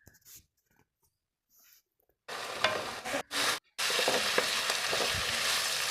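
Green tomatoes and green chillies fry in a pan on high flame while being stirred: after a quiet start with faint scrapes, a loud steady sizzle bursts in, broken by brief pauses, then continues close and strong.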